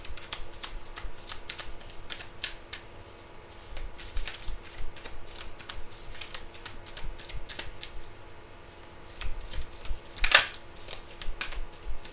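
Tarot cards are shuffled by hand in a quick, close run of papery riffles and soft slaps that keeps going without stopping, with a sharper snap near the end and no speech.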